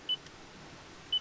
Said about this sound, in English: if I turn this up, you can see there's always going to be a beep